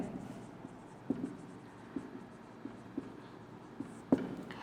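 Chalk or marker writing on a board during a botany lesson, faint scattered taps and short strokes spaced about a second apart against quiet room noise, with no talking.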